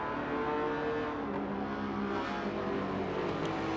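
Trans Am race car engine droning steadily in a racing video game, a continuous moderately loud motor tone with no talk over it.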